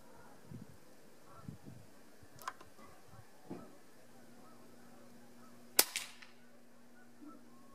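PCP air rifle fired in a cold-weather test, a single sharp close crack standing out against quiet outdoor background with a few faint clicks and handling noises.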